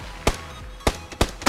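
Gunshots in the battle royale video game PUBG, three sharp separate cracks spaced irregularly over a second and a half, loud against a low background hum with no talk.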